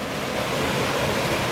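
Overflow water from a canal's high level pouring down to the lower level outdoors in the Saddleworth countryside, a steady broadband rushing close by with some wind buffeting.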